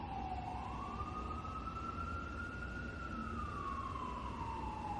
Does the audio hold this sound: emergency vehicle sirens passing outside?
yes